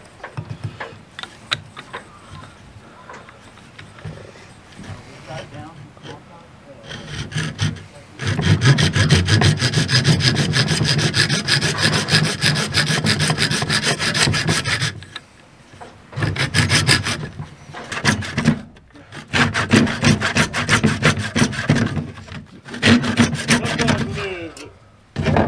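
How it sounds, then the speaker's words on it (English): A hand saw cuts through PVC drain pipe while working on a P-trap, with rough, rhythmic back-and-forth rasping strokes. The strokes start softly, then turn loud and close in several sustained runs separated by short pauses. "I don't think I've ever cut a piece of PVC pipe off straight."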